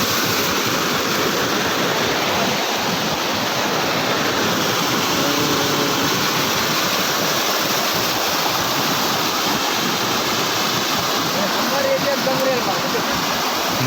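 Floodwater rushes over flooded village fields toward the river, a loud, steady, continuous roar of flowing water that fills the whole scene without pause.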